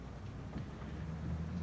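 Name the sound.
rain in Farming Simulator 25 video game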